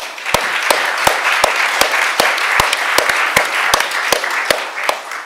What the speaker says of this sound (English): Let's give a really warm round of applause